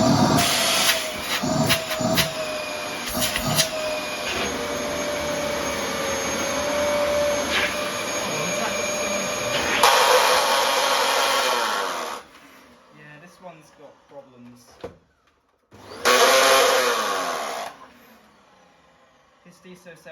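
Lime-coloured Dyson DC07 upright vacuum cleaner with a clutch problem runs with a loud, steady broadband roar for about ten seconds, then cuts off; brief bursts of motor noise follow between quieter gaps, with speech and handling noises around it.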